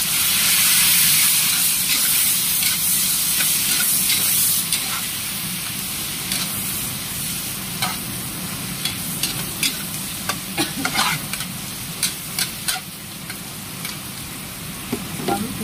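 Long beans hitting a pan of crisp fried onions and anchovies, with a loud sizzle at first that settles into a steady fry, overlaid by repeated scraping stirs in a quick rhythm toward the end.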